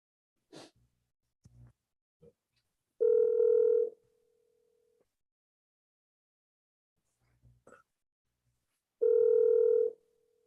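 A telephone dial tone sounds during a prank phone call, two loud steady bursts about a second long separated by quiet, with breathy noises, faint clicks and handset sounds between them.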